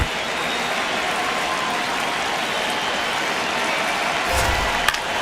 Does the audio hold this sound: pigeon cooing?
no